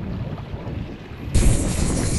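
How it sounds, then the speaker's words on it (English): Wind buffets a fishing boat out on choppy water with three- to four-foot rollers, a steady rushing roar that swells into a louder, broader gust of wind noise about two-thirds of the way through, with no voices. "Lots of chop and lots of wind."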